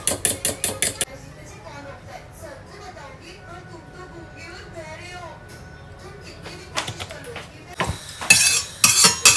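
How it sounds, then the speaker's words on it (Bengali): A fork beating eggs in a bowl, quick rhythmic clinking at the start, then a quieter stretch under voices, with louder metallic clatter returning near the end. "ডিম ফ্যাটার জন্য জানো তো ফ্রেন্ডস এই কাঁটা চামচগুলো খুব সুবিধা হয়"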